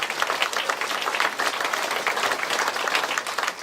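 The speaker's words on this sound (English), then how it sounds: "Let's give him a big round of applause for that." Audience applause at a concertina music gathering: a dense, steady patter of many hands clapping together at moderate volume, sustained for the whole few seconds.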